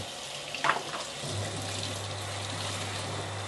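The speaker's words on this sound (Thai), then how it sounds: "น้ำก็จะพุ่งมา" Tap water spraying out while a child's Diller Tritan 350 ml plastic flask is rinsed at a sink, a steady running hiss with a brief splash near the start, alone without talk.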